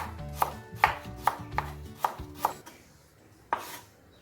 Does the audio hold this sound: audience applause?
no